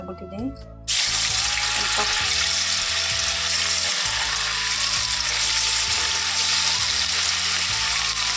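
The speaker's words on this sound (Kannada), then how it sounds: "ಇವಾಗ ಫ್ರೈ ಮಾಡ್ತೀನಿ ಫ್ರೆಂಡ್ಸ್ ಎಣ್ಣೆ ಬಿಸಿ ಆಗಿಬಿಟ್ಟಿದೆ" Bitter gourd pakoda chips frying in very hot oil, a loud, steady sizzle that bursts in after a brief quieter start and continues unbroken, with a low background hum beneath it.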